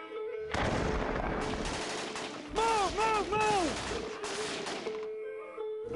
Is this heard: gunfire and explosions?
yes